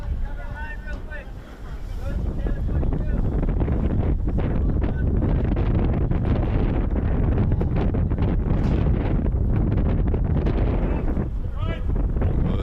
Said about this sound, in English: there's 50-mile-an-hour gust today